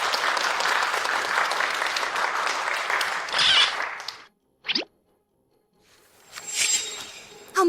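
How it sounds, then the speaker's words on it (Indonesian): Encouraging applause for a nervous groom at a wedding, a burst of clapping that fades to silence, followed by brief thuds and a short returning swell. "Mari kita beri tepuk tangan penyemangat"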